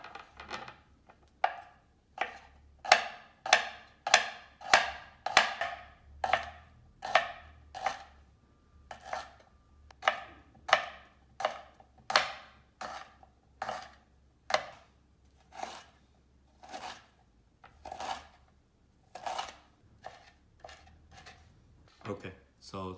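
Fresh yellow ginger root chopped into small pieces with a knife on a cutting board: a steady run of about thirty crisp, close knocks, quick in bursts and then evenly spaced, with no talk.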